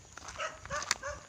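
Several dogs bark at close range, three or four quick, sharp yaps and bow-wows in about a second, rising clearly above faint background noise.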